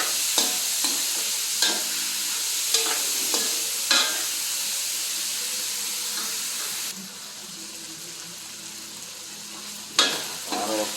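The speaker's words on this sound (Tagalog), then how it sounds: "Higisa muna natin bago natin yung kamatis." Vegetables sautéing in a pan before tomato goes in for an upo (bottle gourd) dish: a steady close sizzle with a string of sharp stirring scrapes, a brief quieter stretch near the end, then another scrape.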